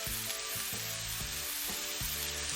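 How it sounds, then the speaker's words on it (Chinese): Sliced shiitake mushrooms are stir-fried with scallion, ginger, garlic and salt in hot oil, making a loud, steady close sizzle with a regular pulse from continuous tossing, and a tonal hum runs underneath. "不断翻炒。"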